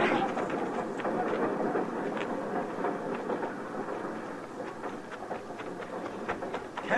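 A steady rumbling clatter of a train rolling along the tracks continues throughout, with faint rhythmic clicks over a dense noisy wash, from a radio drama.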